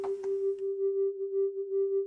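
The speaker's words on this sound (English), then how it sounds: "Sine wave." A Hydrasynth synthesizer holds a steady sine wave with stacked mutant oscillator copies, a pure sustained tone with a slow phasing pulse, after a brief attack at the start.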